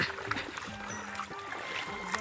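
Fish thrashing and splashing in a net at a wedding-day fishing outing, with irregular close splashes and water churning while someone talks quietly over it.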